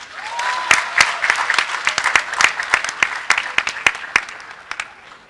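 Audience applause at a university graduation ceremony, a steady patter of many hands with sharp, louder individual claps standing out, continuing throughout with a brief faint tone near the start.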